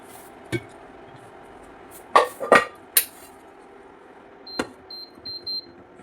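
A freshly washed metal pressure cooker is handled in a home kitchen, giving a few sharp clanks and clatters in quick bursts, then a short series of thin high beeps toward the end.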